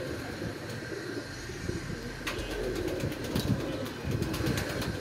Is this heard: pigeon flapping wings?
yes